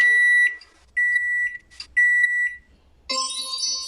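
Home microwave oven beeping: a series of short, loud electronic tones in a steady on-off rhythm, close by and alone with no voices.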